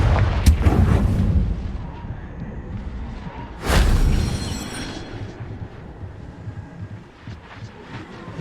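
A Confringo explosive spell bursts in Hogwarts Legacy, a deep booming blast heard twice, the second louder and rolling off into a low rumble over a steady ambient bed.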